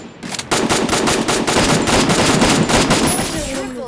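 Rapid automatic gunfire from the Free Fire battle royale game, loud and close, a dense run of bursts lasting several seconds with no pause.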